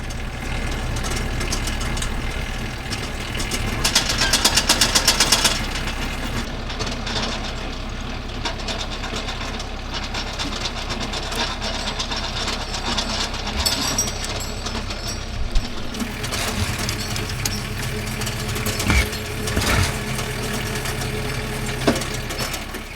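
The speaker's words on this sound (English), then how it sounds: "I'm going to start the tractor, put some tension on this cable" A tractor engine runs steadily close by while it puts tension on a winch cable for felling a tree, a low chugging idle with rattling and a few clanks over it.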